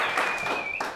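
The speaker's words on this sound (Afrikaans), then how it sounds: "Gee God 'n hande klap." Brief burst of audience applause for God at a church gathering. Dense clapping runs throughout the second-long stretch, with a faint tone sustained beneath it.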